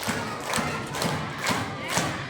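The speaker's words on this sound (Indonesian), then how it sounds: "Tepuk tangan yang banyak." Children clapping their hands together in repeated bursts of sharp claps, a lively group sound with a loose rhythm and faint crowd noise underneath.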